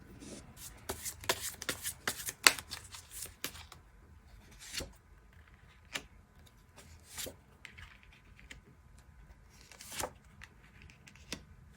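A deck of tarot cards is shuffled close by, with quick papery riffles and slaps in an uneven rhythm that thin out to occasional taps and then pick up again, with no talk.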